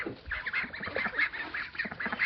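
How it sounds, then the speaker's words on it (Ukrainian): Ducks and geese eating feed give off a close, continuous run of honks and nasal quacks, busy and overlapping. "Отак от повинні їсти качки"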